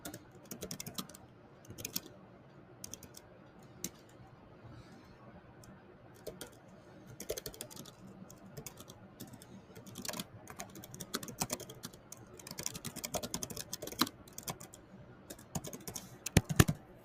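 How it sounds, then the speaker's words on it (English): Slow, uneven typing on a computer keyboard, scattered individual key clicks with irregular pauses that grow busier toward the end, close up and quiet, with no talking. "excuse my slow typing."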